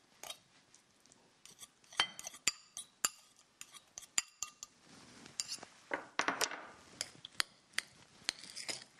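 Quinoa salad with tuna being mixed in a bowl: a run of bright clinks and scrapes of a utensil against the dish, irregular and close, with softer rustling between taps and no talk.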